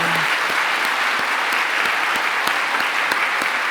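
A full room of church elders and their spouses at a worship service during a national elders' couples retreat breaks into loud, dense applause that stays steady from start to end.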